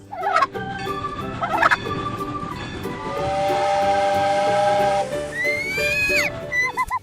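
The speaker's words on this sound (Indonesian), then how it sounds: "Kalkun." A turkey gobbling in short bursts, with a steady whistle-like tone and hiss in the middle, moderately loud and close.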